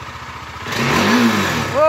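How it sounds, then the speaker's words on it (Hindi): A Bajaj Dominar 400 motorcycle engine cranks and catches, rising into a loud, steady idle at close range, fitted with a newly installed handlebar riser, while someone speaks briefly over it. "और इंजन स्टार्ट।"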